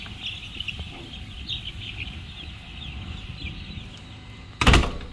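Small chickens on a farm cluck and peep softly and repeatedly at close range, with a faint rustling background and a sudden knock or bang near the end.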